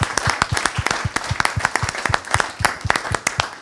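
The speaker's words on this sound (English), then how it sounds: "Can we have a round of applause for our chair this evening?" Applause for the chair at a Cabinet Question Time public meeting, close and crisp handclaps in a quick, fairly even rhythm, sounding like a modest group clapping together for several seconds.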